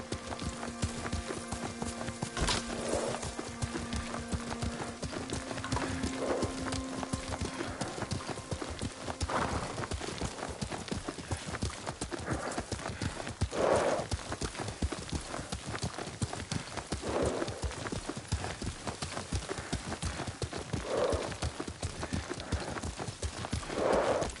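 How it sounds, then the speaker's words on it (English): Continuous galloping hoofbeats of a horse in the video game Ghost of Tsushima run throughout, with a few brief whinnies, and sustained musical tones in the opening seconds. "Lord Sakai taught me to ride a horse"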